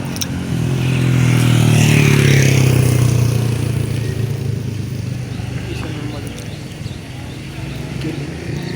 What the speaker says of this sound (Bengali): পাশে হাইওয়ে রোড আছে।